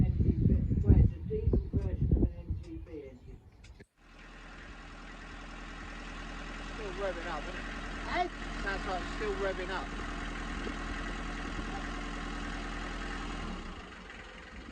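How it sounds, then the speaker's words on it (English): People talk briefly, then an old taxi diesel engine fitted in a narrowboat idles with a steady low rumble and rattling clatter that continues to the end. "Old taxi engines, aren't they, these?"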